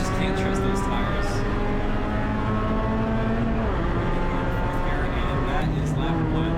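Spec Miata race car engine revving hard and accelerating on a road course at MSR Houston, a loud continuous buzzing drone with rising pitch sweeps through gear changes, close and steady throughout.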